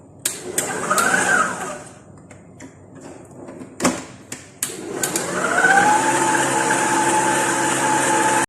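An electric mixer whirs through peanut chocolate cookie dough, starting and stopping with a few clunks before settling into a steady high motor hum, close by.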